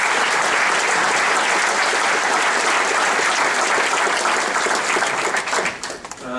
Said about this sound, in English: Before I hand the podium back to Mario, let's give a round of applause for our panelists.